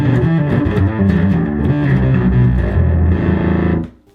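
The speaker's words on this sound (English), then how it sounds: "the distortion is kinda fuzzy and nasty" Fuzzy, nasty distortion from an electric instrument played through an Acoustic 450 amplifier, loud and dense chords sustaining for a few seconds before cutting off abruptly.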